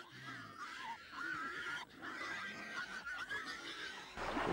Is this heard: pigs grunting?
yes